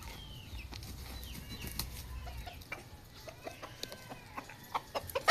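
Roundhead breeder chickens on a backyard farm cluck in short, scattered calls, with some wing flapping, over a steady low rumble of outdoor noise. The calls grow sharper and more frequent toward the end.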